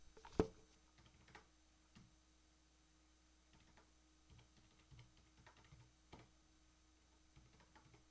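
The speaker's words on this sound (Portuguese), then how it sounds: "Os valores, eu vou estar digitando" Light typing on a computer keyboard while entering spreadsheet values, soft scattered keystrokes and clicks, faint and close in a quiet room with low hum.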